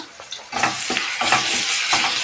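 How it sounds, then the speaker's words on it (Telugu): Ginger garlic paste with tomato fries in a pan for a mushroom fry, giving a close, steady sizzle broken by rhythmic scraping stirs about every half second. "ఇది కొంచెం పచ్చివాసన పోయే వరకు ఫ్రై అవనిద్దాం."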